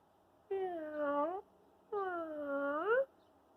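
A voice mews like a kitten, imitating a cat in two drawn-out, rising meows, each about a second long, close and clear against a quiet background.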